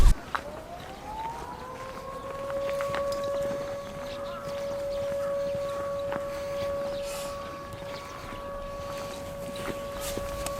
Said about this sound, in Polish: Ta, syrena się włączyła.